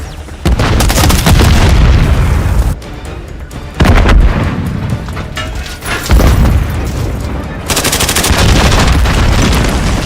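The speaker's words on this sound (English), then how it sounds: "Throwing grenade!" A grenade blast in Call of Duty MW3 on PS5, heard as repeated heavy booms and bursts of gunfire. The loud, dense battle noise runs almost without pause, with a few brief lulls.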